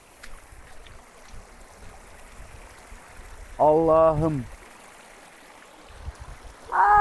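Someone wades through a cold mountain stream near the Kocaçay waterfall; steady rushing water fills the scene, and a voice exclaims briefly in the middle and again near the end.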